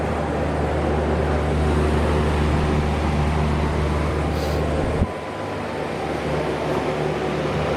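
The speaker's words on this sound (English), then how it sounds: "Now I can see what a real fan motor should do." A newly installed replacement condenser fan motor on an air conditioner runs with a loud, steady, close-up hum and whir, its tone dropping and thinning abruptly partway through.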